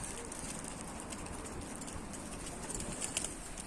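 Pigeons cooing on a rooftop, faint soft calls against a constant hiss of outdoor background, with light patter and a few brief brighter chirps toward the end.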